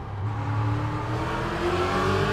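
A BMW Z4 GT3 race car in the iRacing sim, its engine droning loud and steady as revs climb smoothly through a gear, close and continuous with no voices.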